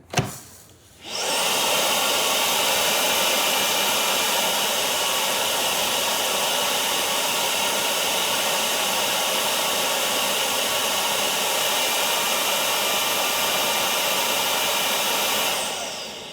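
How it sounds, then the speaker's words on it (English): Cordless stick vacuum by UWANT sitting in its self-emptying dock, running a loud, steady suction roar that starts abruptly after a brief pause and holds for about fifteen seconds before cutting off. "this was a quick demo of the power of self-emptying"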